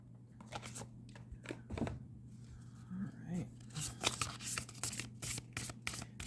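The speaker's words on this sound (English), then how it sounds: "I am going to get a Rose Oracle card here." Rose Oracle cards are shuffled close by in soft papery riffles and slides, with a low steady hum underneath.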